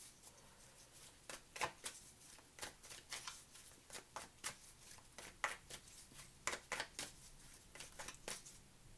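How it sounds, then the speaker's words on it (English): Tarot cards are shuffled by hand in a steady run of crisp riffling snaps, about two per second, quiet and close with no talking. "Three more shuffles."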